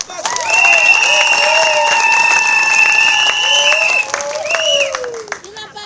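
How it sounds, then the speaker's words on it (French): A large crowd at a political rally during election campaigning breaks into sustained applause and cheering, a loud, dense wash of clapping mixed with whistles and shouts that holds steady for several seconds before tapering off. "Est-ce qu'on peut acclamer?"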